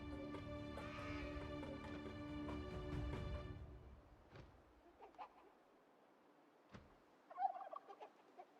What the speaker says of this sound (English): It's a turkey.